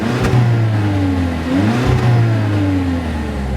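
A 147-horsepower 1.4-liter turbocharged engine in a 2019 VW Jetta revs steadily up and down, with no speech over it, and a clear pitch dip and rise partway through.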